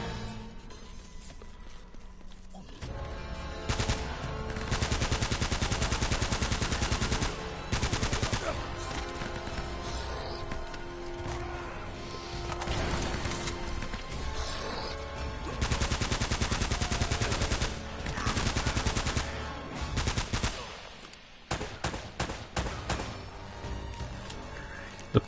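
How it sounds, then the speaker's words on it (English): Rapid pistol gunfire from Uncharted, repeated sharp shots in dense bursts with brief pauses, loud and close, ending in a quick string of individual cracks. "The pistols in this game as well are amazing."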